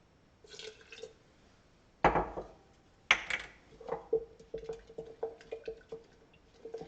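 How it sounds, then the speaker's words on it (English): A quarter cup of water is poured into a whole wheat sourdough starter, with soft splashes followed by a series of small drips and light clinks of glass in a quiet kitchen. "I'm going to put my 1/4 of a cup of water."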